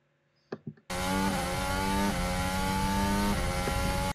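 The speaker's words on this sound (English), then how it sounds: "You can hear the engine note." After a couple of brief knocks, a Formula 1 car engine in wet, low-grip conditions bursts in loud and high-pitched, its note sweeping upward through gear changes as the car accelerates in the rain.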